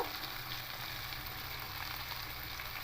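Malabar spinach frying in a pan gives a soft, continuous sizzle with faint stirring, quiet and close throughout.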